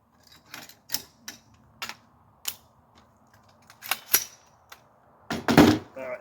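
Reassembling a Davidson Defense AR-47 7.62x39 rifle, a series of close, sharp metallic clicks and clacks spaced irregularly, ending in a louder cluster of rattling handling noise.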